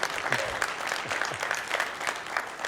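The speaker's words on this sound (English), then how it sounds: "Rana deserves a big round of applause" An audience at an innovation summit panel discussion applauds a speaker, with steady, dense clapping from a seated crowd held at an even level throughout.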